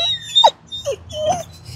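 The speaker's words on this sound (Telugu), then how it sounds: "కోలా కంప్లైంట్ చేస్తున్నావు?" A dog whines and squeals in short, high, wavering bursts, complaining at being left behind, with a few separate cries close by over a low background hum.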